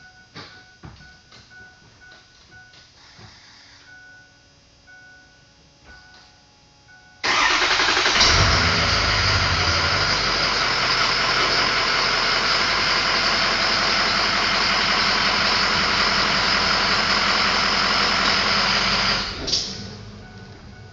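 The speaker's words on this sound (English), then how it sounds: "So I'm going to back up here and drop this down and let the truck sag" A pickup truck engine cranks and starts partway through, then runs at a loud, steady idle for about twelve seconds before cutting off, while the truck backs up to a camper hitched with a weight distribution hitch.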